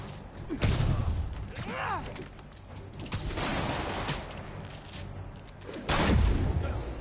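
Sniper gunfire in a Spider-Man video game: a few sharp shots with mechanical clicks and swooping game effects among them, fairly loud and close, no talk.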